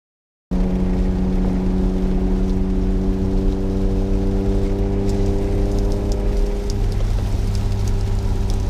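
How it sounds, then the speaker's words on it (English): Torrential rain pours at a racetrack as a dense, steady hiss that starts abruptly and continues without a break. A low, constant hum runs underneath it. "We got a little bit of rain, and by a little bit of rain I mean torrential"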